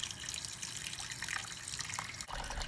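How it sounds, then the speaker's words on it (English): Tap water runs over raw chicken in a kitchen sink, a close, continuous splashing hiss with small shifts and spatters as the meat is turned under the stream. "So I rinse it in some water just to remove any excess things that may be on it."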